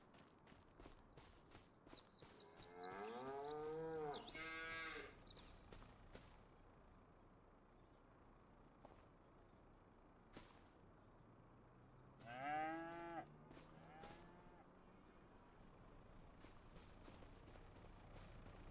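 Cows on a farm in Farming Simulator 25 letting out two long, drawn-out moos several seconds apart, fairly close, with scattered bird chirps and quiet ambient farm background between them.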